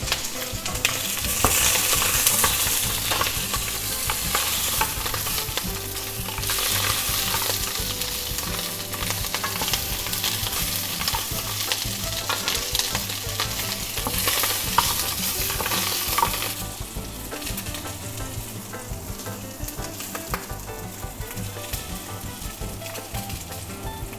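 Steady, dense sizzling of sausages searing in a hot frying pan, crackling continuously up close for the whole stretch with no voices.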